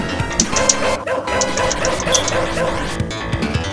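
A dog barks in Shadow Dancer: Secret of Shinobi, a string of sharp, repeated yips and barks over a busy, clattering game soundtrack.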